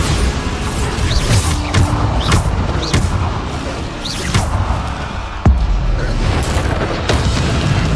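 Bombarda spell explosions in Hogwarts Legacy during combat, rendered as a dense run of loud booms and crashes that come every second or so over a constant roar of battle noise.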